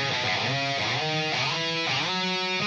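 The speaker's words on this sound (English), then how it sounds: "So here's more of a solo style with some hammer and pull off" Heavily distorted electric guitar playing a loud solo phrase, with notes sliding between pitches and quick hammered runs.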